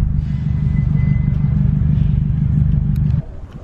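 Subaru STI car engine rumbling steadily and close while driving to a Subaru car meet, a loud continuous low drone that eases off near the end.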